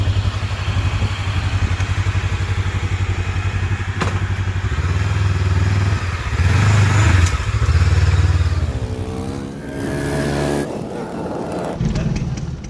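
A Hunter Maverick MV 500 adventure motorcycle, a lightweight 500cc bike, idles nearby with a loud, steady throbbing engine note that swells with throttle blips and settles, a few thuds and clatter mixed in.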